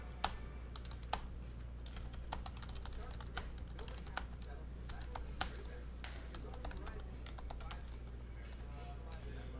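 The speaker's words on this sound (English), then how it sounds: "Let's just type. type these out." Computer keyboard typing comes as a string of light, irregular clicks close by over a steady low hum, with a person talking quietly between the keystrokes.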